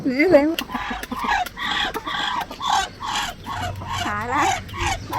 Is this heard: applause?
no